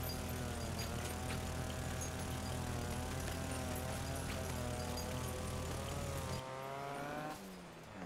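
A video game car's engine drones steadily at high revs with layered harmonic whine while drifting and accelerating, then cuts to a lower, thinner tone near the end; no voices.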